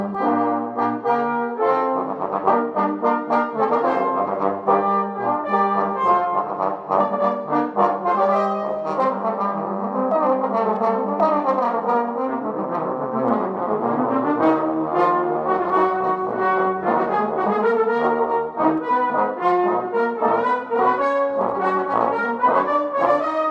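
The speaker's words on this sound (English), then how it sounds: "When we attach the mouthpiece to the horn, we can get sounds like this." French horn playing a long melodic passage, warm sustained notes moving smoothly up and down, steady and clear at close range with no voices.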